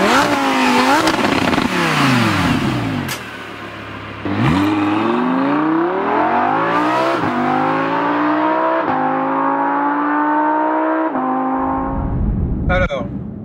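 An Audi R8 V10 Plus engine roars loudly from inside the moving car, repeatedly rising in pitch through the gears with brief dips at each shift, while a voice talks over it.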